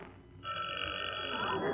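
An out-of-order telephone rings once with no incoming call, a sustained electronic trill lasting about a second, with muffled room noise around it.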